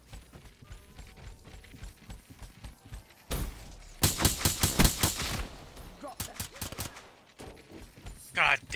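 Gunshots in a gun game mode of a video game crack out in a quick cluster of loud, close reports, with scattered single shots after. Game noise and voices fill the quieter stretches.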